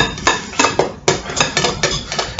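A knife chops butter into pastry flour in a bowl, a quick irregular series of sharp clicking taps against the dish, close and fairly loud with no talking.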